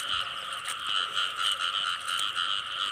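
A frog croaks steadily and loudly up close, a dense rasping call repeating in pulses over three seconds with no voices, heard during a nighttime frog hunt.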